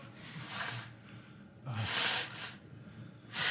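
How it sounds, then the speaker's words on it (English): Several forceful, breathy bursts of air blown through the nose, close to the mic, coming in uneven gusts with short pauses between. "I'm blowing my nose on the mic."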